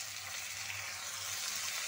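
Onions, cumin and mustard seeds fry in hot oil, making a soft, steady, even sizzle with a faint low hum beneath, continuous and unbroken throughout.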